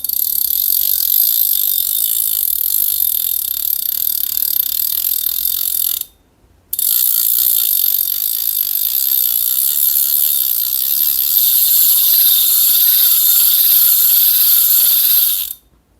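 Rapid, steady ratcheting clicks from a KastKing Rekon spinning fishing reel, loud and close, running continuously with one short pause.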